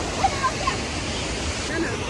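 A river rushes past the bank in a continuous, close roar of flowing water, with people talking faintly over it.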